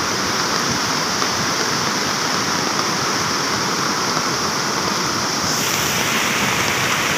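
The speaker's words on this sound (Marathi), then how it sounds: "अफाट पाणी आलंय मित्रांनो. हा धबधबा वाटत पण नाही." A swollen waterfall on a flooded river roars in a continuous, loud, broadband rush of water at close range, with no talk and no pauses.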